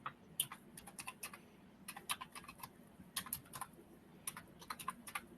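Rapid typing on a computer keyboard in a radio studio during a paranormal talk show, with irregular bursts of crisp key clicks and short pauses, close and fairly quiet, with no talking.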